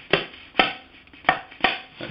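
Four crisp, dry "chick" slaps on a tabla head, closed and muted with little ring, played at an even, unhurried pace.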